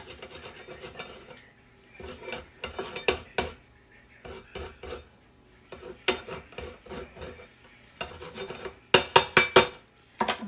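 Lemon being zested over a bowl of garlic and butter, with rhythmic rasping strokes in short bursts, some sharper metallic scrapes near the end, close and fairly loud.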